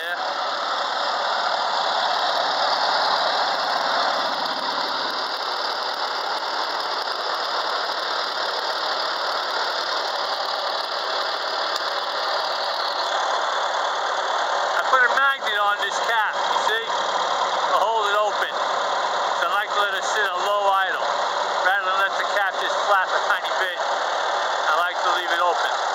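A 2019 Farmall Super A tractor engine runs steadily with its muffler fitted, a continuous mid-pitched idle with a slight knock that holds throughout, while someone talks over it in the second half.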